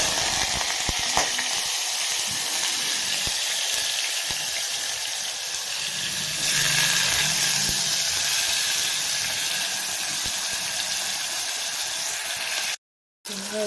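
Oil sizzles steadily in a pan as onions fry toward brown for a Sunday chicken gravy, a loud, continuous hiss with faint stirring and no voices, dropping out briefly near the end.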